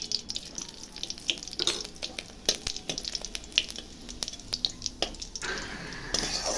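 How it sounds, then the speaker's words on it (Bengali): Hot oil sizzling as a dried red chilli and then white cumin seeds are tempered, a steady close crackle peppered with sharp pops and clicks, growing denser near the end, with no talk. "শুকনো লঙ্কাটা একটু লাল লাল হয়ে আসলে আমি একটু জিরা ফোড়ন দেবো"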